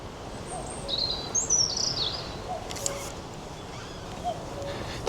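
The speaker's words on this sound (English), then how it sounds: "I can hear one of the most exciting sounds of the year. I can hear a cuckoo." Cuckoo calling on open moorland, a faint distant bird voice repeating a few times over steady outdoor background noise with other birds chirping.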